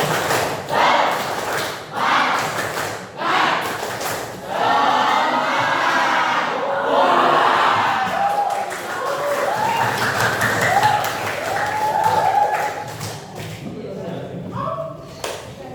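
A group of participants performs a rhythmic clapping chant as an energizing ice-breaker at a training session, with repeated sharp claps mixed with shouts and voices, loud and close throughout.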